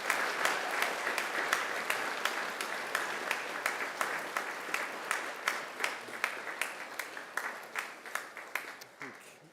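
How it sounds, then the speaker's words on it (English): A graduation ceremony audience gives sustained applause, with many hands clapping together and strong rhythmic pulses running through a dense crowd wash, loud and continuous before slowly thinning out. "And now it's time to give them a mighty round of applause."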